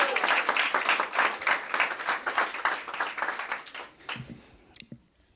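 A board meeting audience claps for a few seconds, fairly close and uneven, the applause thinning and fading out near the end with a few scattered soft sounds.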